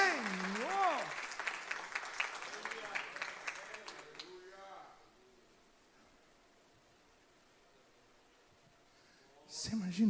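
Church congregation applauding during a sermon, a short burst of clapping mixed with a preacher's sung or drawn-out voice, fading after about five seconds to near-silence, then a brief loud swell at the end.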